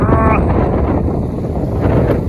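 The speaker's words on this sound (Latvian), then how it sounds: "Bet vējš ir tik milzīgs." Strong wind buffets the microphone with a loud, steady roar throughout, with no other clear sounds.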